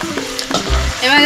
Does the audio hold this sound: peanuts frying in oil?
yes